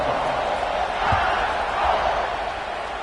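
A college football stadium crowd waits for the opening kickoff, giving off a steady, distant roar of massed voices without any sharp burst of cheering.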